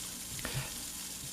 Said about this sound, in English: I start cooking this dish first by pan frying the salmon and the shrimp in a shallow layer of oil.